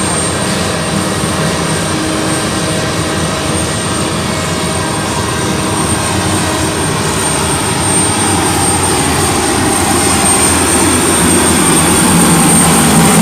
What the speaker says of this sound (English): The jet blast that these engines are capable of delivering.